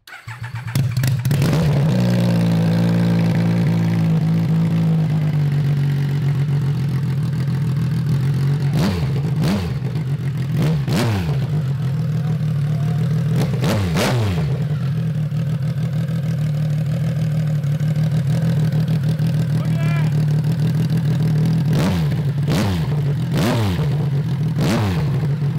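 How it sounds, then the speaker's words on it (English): A Triumph 955cc Dragster motorcycle cranks and fires up, then settles into a loud, steady idle close by, broken by several sharp throttle blips that rise and fall through the run. "Charles, can you do the honors and try to crank it up?"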